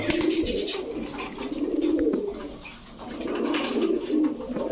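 Several pigeons, including Teddy, Pankhi and Saharanpuri breeds, cooing in soft, rolling bursts close by at a pigeon shop, their murmuring calls rising and fading repeatedly.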